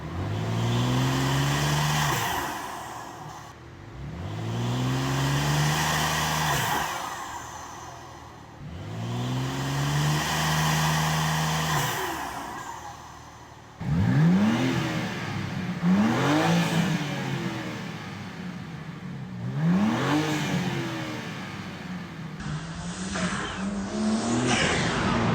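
A BMW M3 fitted with front mount intakes revs repeatedly, each rise and fall sweeping up and back down in pitch. Later revs turn sharper and more aggressive, loud and close, with no talking.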